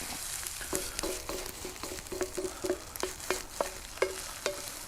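Eggs frying in a pan over a campfire in the woods, a close, steady sizzle broken by repeated light taps and scrapes of a utensil against the pan.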